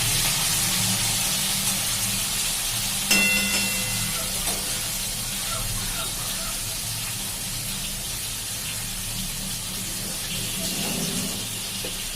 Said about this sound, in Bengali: চিংড়িটা ভাজছি।